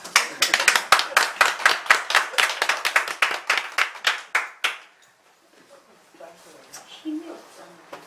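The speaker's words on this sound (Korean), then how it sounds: "여기도 박수 치." A group of people in an acupuncture lecture claps together, a quick run of sharp, fairly loud claps that fades out after about five seconds and leaves quiet room sound.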